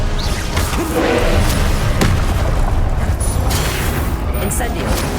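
A Confringo fire spell exploding in the Hogwarts Legacy video game, a loud, dense booming blast with crackling debris in the middle of battle noise, with game voices over it.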